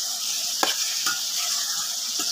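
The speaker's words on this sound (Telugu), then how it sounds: "ఇందులోకి అలాగే మనం కరివేపాకు కూడా వేసుకుందామండి." Curry leaves frying in hot oil in a pan on a small gas stove, a steady loud sizzle with a few sharp crackling pops as the leaves spit.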